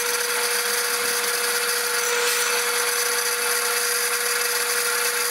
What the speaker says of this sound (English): Now we're gonna go ahead and keep on drilling.